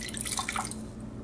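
A brief pour of bottled water, a short burst of splashing and dripping into a container that quickly tapers off, heard up close with no voices.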